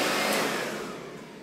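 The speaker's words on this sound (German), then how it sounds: "Ich mache es mal ganz kurz, damit Sie mal hören, wie laut oder wie leise der Staubsauger ist." A Vorwerk Kobold 121 vacuum cleaner runs briefly, giving a loud, steady, close whooshing motor roar that fades slightly toward the end, with no speech.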